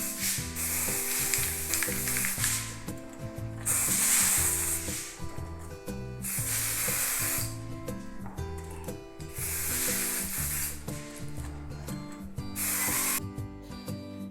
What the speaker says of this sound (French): Je me place à environ à 20 cm de mon entremets pour ne pas que le flocage craque et je bombe.